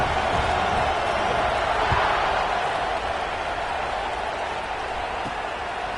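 A large college football crowd at a Washington vs Tennessee game, moments before kickoff, fills the stadium with a steady, broad roar that holds at an even level throughout without distinct peaks.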